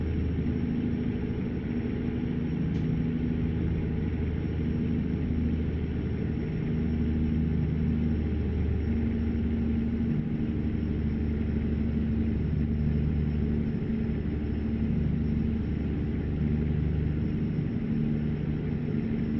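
Steady, loud diesel rumble of a truck engine in American Truck Simulator, holding a low drone with shifting harmonic tones as the gears change down, with no talking over it.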